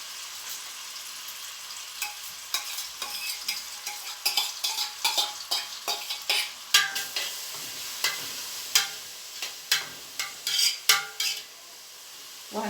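Onion frying in a pan, with a soft sizzle under repeated scraping and stirring strokes of a utensil against the pan, fairly close and moderately loud.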